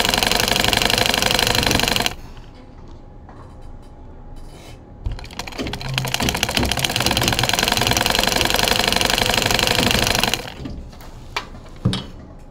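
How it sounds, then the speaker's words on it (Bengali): A sewing machine stitches a narrow side seam on fabric, running in two loud continuous bursts of rapid mechanical clatter separated by quieter pauses with light handling clicks. "প্রথমে আমরা সোজা দিকে সাইড থেকে চিকন করে সেলাইটা দিব।"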